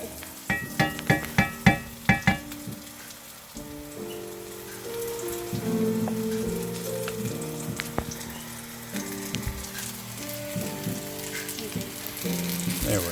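Ripe orinoco bananas fry in oil in a pan with a steady crackling sizzle and spitting pops, a few sharp clatters of the pan early on, and close background clatter throughout.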